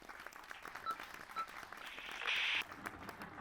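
Audience applause at a theatre storytelling performance of an Aladdin tale, light scattered clapping that swells briefly near the end, fairly faint and distant.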